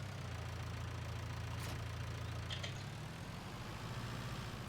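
A small farm tractor engine idles steadily at low volume, a continuous low rumble with faint knocking throughout, no voices over it.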